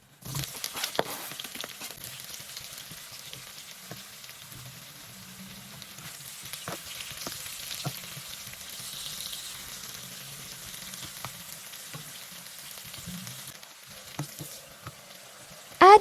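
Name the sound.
onions frying in hot oil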